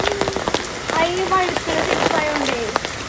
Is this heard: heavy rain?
yes